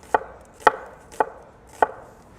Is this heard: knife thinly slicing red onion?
yes